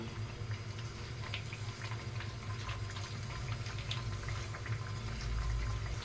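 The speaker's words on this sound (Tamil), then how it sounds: "நம்ம இப்போ கட் பண்ணி வச்சுருந்தது ஒன்று ஒன்றா எடுத்து ஆயிலில் போட்டு ஃப்ரை பண்ணி எடுத்துக்கலாம்" Rava snacks fry in hot oil over a medium flame, giving a steady, even sizzle and bubbling that runs throughout with no voices.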